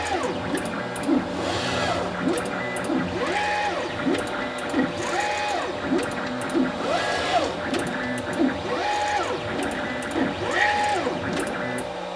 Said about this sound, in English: to auto bed level the printer.